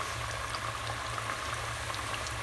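Chebakia dough frying in hot oil for Moroccan chebakia, a steady, even bubbling hiss with no talk over the whole stretch.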